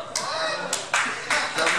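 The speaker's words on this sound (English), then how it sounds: "In comedy, we call that a sympathy applause." Thin sympathy applause from a small comedy-club crowd in an Irish tavern, a few scattered claps coming in uneven bursts over a murmuring room.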